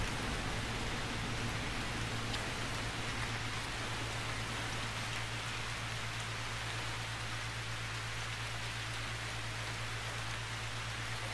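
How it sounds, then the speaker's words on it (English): Heavy rain in a video game set aboard a French Navy ship, a steady, even wash of falling rain with a constant low hum beneath it, unbroken for the whole stretch. "It's starting to rain heavier."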